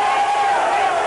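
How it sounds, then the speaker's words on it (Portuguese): Criciúma supporters roaring and cheering in a packed football stadium during a Copa Libertadores match against São Paulo, a steady dense crowd din filling the whole moment. "Torcida do Criciúma incentivando"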